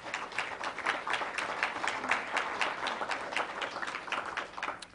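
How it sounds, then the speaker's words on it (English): Audience clapping at a university competition final as a judge is introduced, a moderate, even burst of many hands applauding together, continuous and somewhat distant. "feel free to applaud as I introduce them individually"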